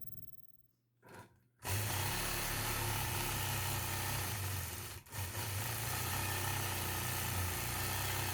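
A quilting machine stitches a swirly feather stop border, its motor starting with a couple of short bursts, then running in a loud, steady whir that dips briefly once before carrying on, with no talking.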